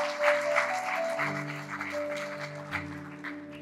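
A church congregation claps for a few seconds, moderately loud, over sustained organ or keyboard chords.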